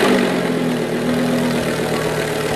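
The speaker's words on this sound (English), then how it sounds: "the team will fire up the engine" A race car engine idling in the pit at a Fuji, Japan race round, a loud steady close rumble with a constant droning tone and no voices.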